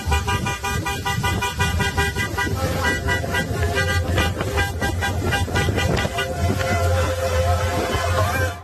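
Car horns honk repeatedly over steady traffic on a bridge, where stopped cars block the road, several toots overlapping and fairly close, with a continuous engine rumble underneath.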